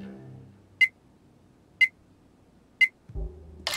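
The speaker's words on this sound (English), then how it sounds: "Alarm has been activated and it's ticking down." The alarm in the Payday video game gives three short, sharp electronic beeps about one second apart, clear against near silence, followed by a burst of other game noise at the end.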